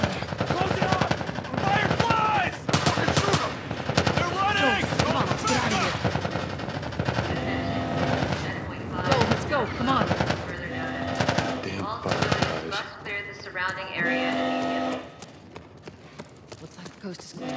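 Soldiers open fire in The Last of Us Part I, a dense, rapid burst of automatic gunfire from several weapons, mixed with shouting voices and game sound effects throughout.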